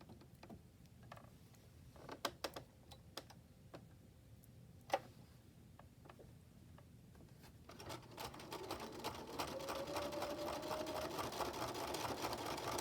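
A sewing machine running a very short, narrow zigzag stitch: scattered ticks and clicks at first, then a steady motor hum with rapid ticking that builds and continues, close and moderately loud, no voices.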